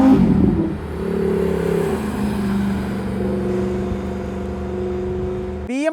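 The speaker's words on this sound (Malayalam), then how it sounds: "BMW എൻജിൻ M4 കോമ്പറ്റീഷൻ്റെ എൻജിൻ എന്ന് പറഞ്ഞാൽ 3 ലിറ്റർ ടിൻ ടെർബോ ഇൻലൈൻ 6 ആണ്" BMW M4 Competition's 3-litre twin-turbo inline-six runs close up, a steady raspy drone with small swells in pitch, ending in a sharp upward rev at the very end, with no voices.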